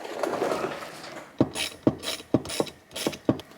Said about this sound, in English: We're bolting down the shifter.